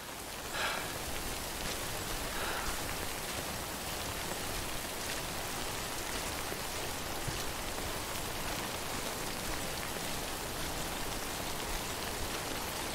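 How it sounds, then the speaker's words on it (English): Steady, even rain falls throughout a video game world in Death Stranding, a constant close hiss of drops on surfaces that holds at an unchanging level for the whole stretch, with no voices. "Right now, I'm just really hoping the rain subsides."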